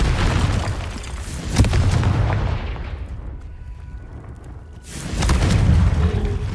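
A Confringo fire-blast spell explodes in Hogwarts Legacy with a heavy, booming blast that rumbles and fades, then a second loud burst follows near the end.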